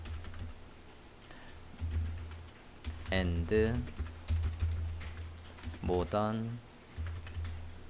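Text being typed into a text box in Photoshop on a computer keyboard, quick clicking keystrokes running throughout while someone speaks over them in Korean.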